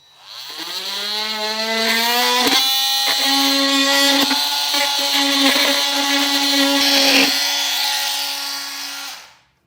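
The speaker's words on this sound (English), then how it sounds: "I'll go ahead and use my multi-tool to get it trimmed out." Oscillating multi-tool trimming a plastic panel on a 2018 Toyota RAV4 for a trailer hitch receiver fit, a loud steady buzzing whine that spins up, holds for about eight seconds with small rattling bumps, then winds down.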